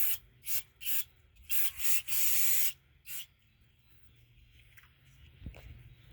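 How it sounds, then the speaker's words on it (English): Brake cleaner sprayed onto the front brake rotor of a 2017 Honda Civic during a pad change, several short hissing bursts then one longer blast, close and loud, followed by quiet dripping and handling. "I got Amsoil brake cleaner. I like to spray the rotor."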